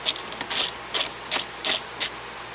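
A Phillips screw is backed out of a Mazda MX-5 Miata front door panel, heard as five or six short, loud ratcheting clicks in a steady rhythm, close up.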